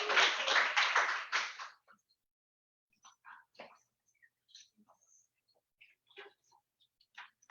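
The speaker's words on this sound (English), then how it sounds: "round of applause" A short burst of audience applause, loud and dense for under two seconds, then fades into quiet scattered rustling and small noises.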